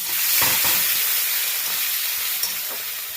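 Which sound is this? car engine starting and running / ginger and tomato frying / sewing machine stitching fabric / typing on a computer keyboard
ginger and tomato frying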